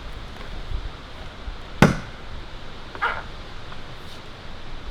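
An axe chops once, sharp and loud, into a standing black ash tree, cut fairly high on the trunk, followed by a second, lighter strike about a second later amid outdoor quiet.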